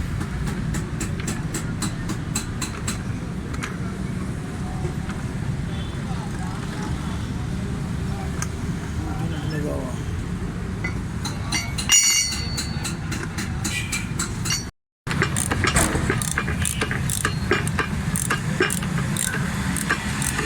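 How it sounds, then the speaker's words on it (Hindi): Front suspension of a 2012 Toyota Vitz with loose bushes, rattling and thumping steadily over a very rough road, under continuous loud road and cabin rumble, with a brief dropout near the end. "गाड़ी बहुत ज़्यादा ख़राब रोड के ऊपर चल रही है, तो आवाज़ भी बहुत ज़्यादा है"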